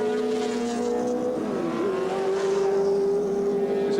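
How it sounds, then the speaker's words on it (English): A 1984 touring car roars away at Oran Park Raceway, its engine note rising and falling in a loud sustained howl with a clear pitch shift through the gears, heard near and alone. "So as Bob Morris roars away, Dick Johnson suddenly is in this position to inherit second place"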